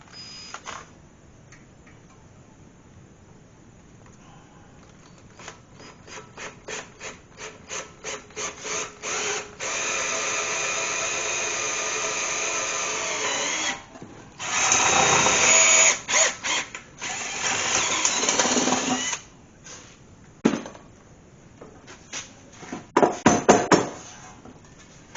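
Drill boring a pilot hole into a small block Chevy engine part after center-punching, a close mechanical whir that starts softly, builds in bursts and cuts out several times, ending in short choppy spurts.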